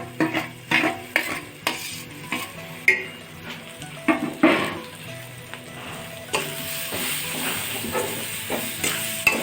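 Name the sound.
frying ground masala paste in pan for crab fry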